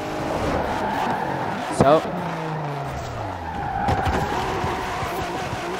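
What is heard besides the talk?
Ford GT car driving and skidding in the video game Forza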